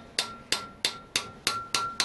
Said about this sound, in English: I've just given it a tap